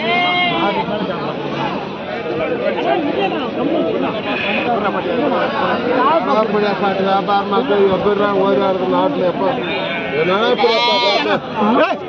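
Sheep and goats bleat over and over at a busy Friday livestock market in Kundarapalli, close and loud, mixed with steady crowd chatter and people talking throughout.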